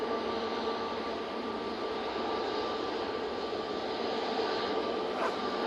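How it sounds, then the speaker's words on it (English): A Ryanair airliner arriving from Belfast at Manchester Airport, a steady distant engine drone with a faint tonal whine, even in level from start to finish. "Next in, Ryanair coming in from Belfast"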